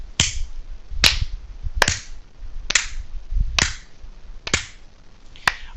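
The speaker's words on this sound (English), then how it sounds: "I would like to start a slow clap" A slow clap with seven sharp, evenly spaced hand claps, each about three-quarters of a second apart, close and crisp with no talking.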